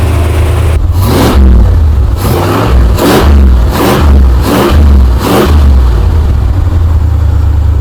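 A 1963 Chrysler Newport V8 engine runs close by, loud and steady, blipped through five or six quick revs in a regular rhythm, each rising then dropping back to idle without stumbling.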